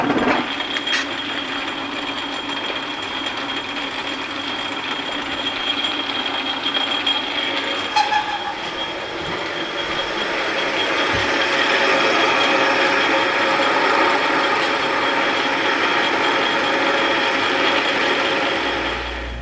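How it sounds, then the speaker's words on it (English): A cutoff tool grinds through metal while a spring cut-off jig is made, a steady, fairly loud abrasive whine with a dense hiss that holds for the full length and swells slightly toward the end. "Cutoff tool is ideal though"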